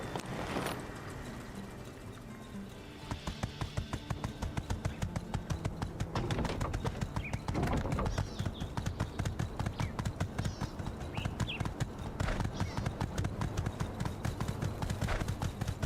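Horse hooves clip-clop in a quick, even rhythm in the video game Sandrock, producing a continuous run of close, steady beats over a low background drone.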